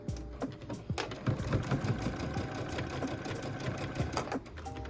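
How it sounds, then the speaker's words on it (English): A sewing machine back stitches a fabric glasses case, its needle chattering in a fast, even rhythm close by with faint clicks on top, and no one speaking. "So we'll back stitch."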